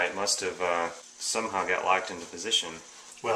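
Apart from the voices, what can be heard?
No everyday noise stands out behind the speech.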